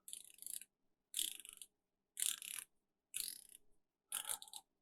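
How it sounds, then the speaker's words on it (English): Zodiac Super Sea Wolf dive watch bezel turned in five short ratcheting runs, each a rapid string of crisp clicks, close up and quiet with silent pauses between turns. "Let's hear that bezel action. It does sound really good."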